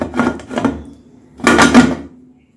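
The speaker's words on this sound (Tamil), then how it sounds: "மூடியை போட்டு மூடி" A lid clatters onto a cooking pot during home baking of a black sesame cake: two short metallic clanks and rattles, close by, with a quiet pause between them.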